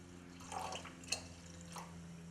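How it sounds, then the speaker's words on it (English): Water is poured into a cooking pot with dry urad dal on a kitchen gas stove, making brief soft splashes and drips in a quiet room, with no talking. "And I'm going to put water."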